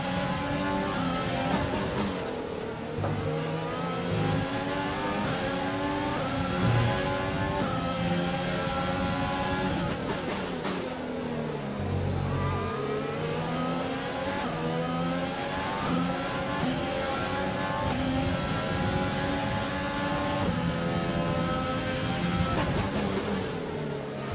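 Formula 1 car engine in the F1 2020 racing game at the Canadian circuit, a continuous high-pitched screaming whine rising and falling through gear changes, with a brief deeper drop under braking midway, loud and steady throughout.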